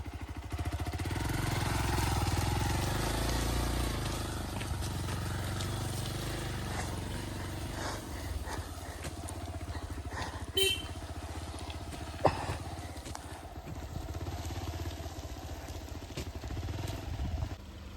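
A motorcycle engine revs and labors steadily at close range on a rough trekking trail near Yedakumari Tunnel, Sakleshpur, with occasional knocks and clunks as it moves over uneven ground.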